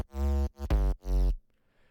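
Distorted 808 bass from an FL Studio Flex preset in a drop section: three loud, sustained booming bass notes with a buzzing harmonic edge and a pitch dip on the second, then a faint tail.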